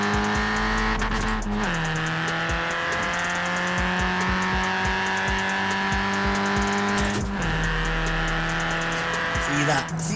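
A 1983 MK1 Golf GTI in the racing game Forza Horizon 4 revs hard through the gears, its engine note climbing and dropping at each shift, with someone talking over the loud, continuous drone.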